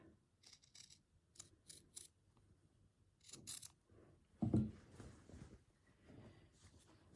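Scissors trimming fabric for a slow-stitch journal project, a series of quick, close, crisp snips spread across the moment, with a louder handling thump partway through in an otherwise quiet room.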